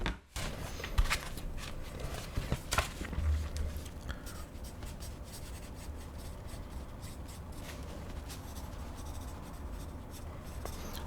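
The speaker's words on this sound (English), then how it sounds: "Let me draw you the family tree." Close, soft scratching of a pen on paper while a family tree is drawn, a quiet continuous scribble with small taps and strokes and no voices.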